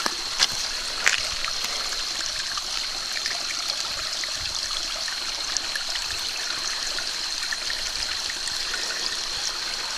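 Creek water running under a bridge, a steady rushing and trickling flow with a faint high hiss, continuous and even, heard nearby with no talk over it.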